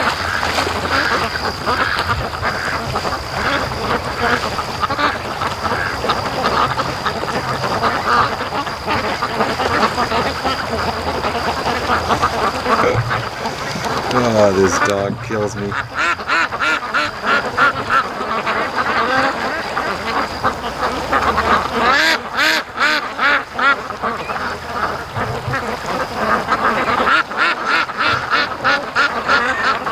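Ducks quacking on a lake beside bulrushes while a dog swims nearby, their calls scattered and fairly close over steady outdoor background, with people talking at times.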